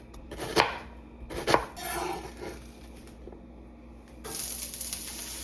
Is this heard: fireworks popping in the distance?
no